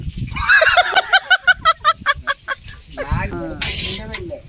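A hen clucks in a quick run of rhythmic, squawking pulses near the microphone, then falls back as people talk over a noisy background.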